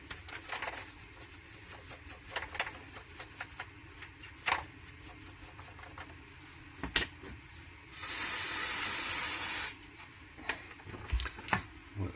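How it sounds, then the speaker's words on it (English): Solvent is sprayed into the rear of tape deck A on a Lasonic TRC-975 cassette deck: one close, sustained hissing burst of nearly two seconds, with light ticking and handling noises before and after. "Let's give it a little spray."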